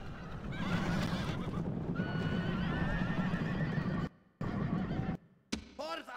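Horses neighing and whinnying in the Rome Total War strategy game, several loud overlapping calls with hoof clip-clop in a battle din, then short broken bursts near the end.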